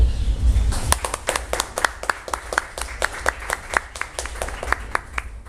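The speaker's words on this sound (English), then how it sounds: "So let's give him a quick round of applause to welcome Federico." A small audience at a startup event claps to welcome a guest speaker, a brief round of distinct, evenly spaced claps that starts after a low rumble and tapers off over about five seconds.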